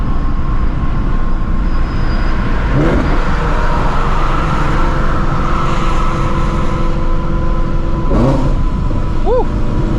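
A supercharged Shelby GT350 on Nitto NT555R2 drag radials accelerates hard, its engine a loud, sustained roar that fills the whole stretch, with a brief rising chirp near the end.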